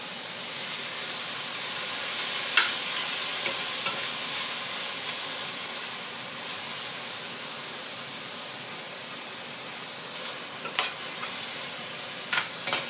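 Beef stir-fried in a pan for a chili-ginger dish, a steady close sizzle with occasional sharp scrapes and clacks of a utensil against the pan, no talking.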